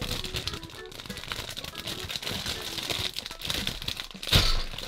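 A plastic bag holding Playmobil stickers crinkles and rustles continuously at close range, with a louder crackling burst near the end.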